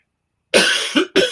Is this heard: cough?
yes